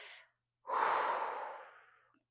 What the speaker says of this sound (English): let's do a quick inhale